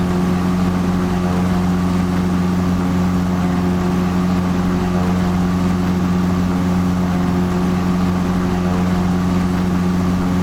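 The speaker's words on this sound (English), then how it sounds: "you've finished taxiing and are about to take off" A simulated airplane engine in a flight simulator game drones steadily during the takeoff run, a loud, even hum with strong low tones that holds without change throughout and has no voices over it.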